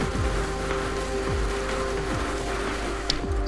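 Water flows steadily in the puzzle platformer game Vessel, a continuous rushing, rain-like wash with mechanical hums and tones layered underneath, constant and fairly loud throughout.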